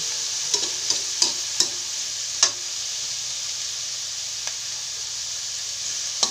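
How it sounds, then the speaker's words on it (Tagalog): String beans and broccoli sauté with pork in a pan, giving a loud steady sizzle broken by several sharp clacks of a utensil stirring, heard near and alone. "Gisa lang po natin yan."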